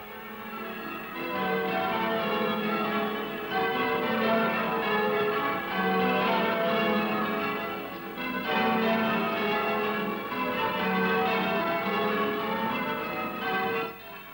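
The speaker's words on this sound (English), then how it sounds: "The cheerful noise of bells and organ floats over the blossoming land." Church bells peal for a wedding in the village of Rickinghall, Suffolk, in a continuous, overlapping wash of tones, swelling and easing in waves at a moderate distance, with no voices.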